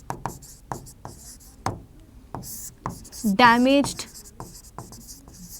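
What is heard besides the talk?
writing biology notes with a pen on paper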